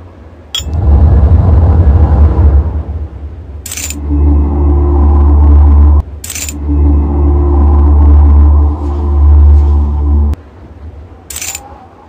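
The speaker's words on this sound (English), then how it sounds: "I think the engine just made a noise." A stuck car's engine rumbles loudly and steadily in a remote spot. The low drone swells and holds, broken by a few sharp clicks that cut in and out.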